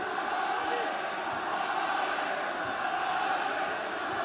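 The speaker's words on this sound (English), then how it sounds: "The crowd come to life." Rugby stadium crowd at a Cardiff versus RCT match, a steady loud roar of cheering and noise filling the whole stretch without a break.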